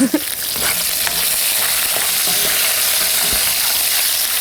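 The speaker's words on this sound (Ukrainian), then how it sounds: "О, шкварчить гарненько." Pork fat sizzles and crackles steadily in a hot pan while cooking Ukrainian vereshchaka, a dense hiss with occasional pops and the scrape of stirring.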